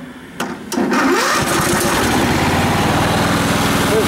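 A Cub Cadet lawn mower with an 18 hp Kohler Command engine cranks briefly, then catches and settles into a loud, steady running roar close by, with no talking.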